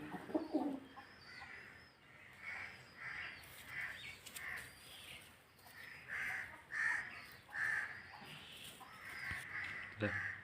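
A very large pigeon from a pair kept by a hobbyist coos in low, throaty bursts, with other birds calling around it at moderate distance; no one speaks over it.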